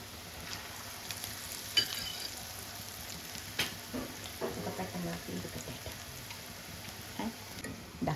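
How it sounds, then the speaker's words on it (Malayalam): Moong dal kurkure frying in hot oil gives a quiet, continuous crackling sizzle with scattered pops and spatters throughout. "എന്നിട്ട് നമുക്ക് ഇത് ഫ്രൈ ചെയ്തെടുക്കാം."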